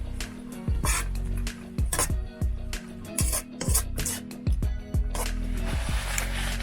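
Spoon scraping and clinking through fried pompano fish in tamarind sauce in a pan on low heat, giving repeated close rasping strokes at a steady rhythm with a low hum underneath.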